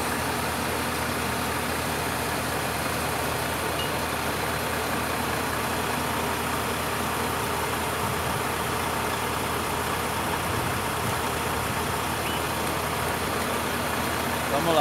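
A tractor engine idles and rumbles steadily while being readied to tow a truck at Serra Pelada, a constant mid-low drone with talk mixed in underneath.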